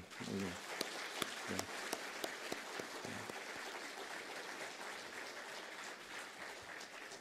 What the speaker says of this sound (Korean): 우리 찬양대 위해서 다시 한번 뜨거운 격려의 박수